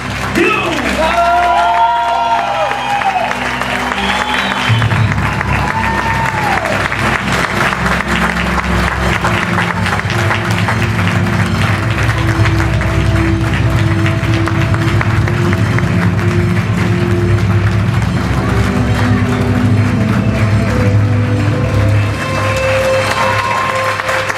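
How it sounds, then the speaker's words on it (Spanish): Loud, continuous audience applause and cheering at a Latino community forum, with whoops and shouts over a dense crowd roar, and background music tones audible in the first few seconds. "Un fuerte aplauso para mitch."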